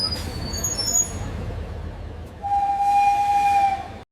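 Train at Ishwardi railway junction, a loud rumbling rail noise followed by a sustained whistle tone that holds for over a second before cutting off.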